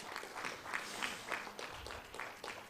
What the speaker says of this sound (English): please welcome entrenched traveler, food devotee, avid reader, and lovable personality, Mr. Amitabh Luthra, with a big round of applause